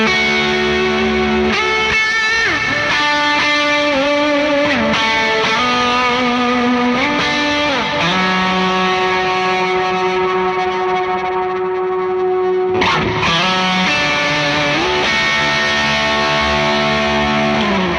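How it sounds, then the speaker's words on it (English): An electric guitar plays through a Twilight Pulse Audioworks Konstante pedal into a Prime Cloud Verb reverb, producing a loud, distorted sound with sliding notes, sustained chords and a washy, screaming reverb tail. "Let's get something with a little bit more aggressive screaming reverb. I'm going to go over to my little Prime Cloud Verb here."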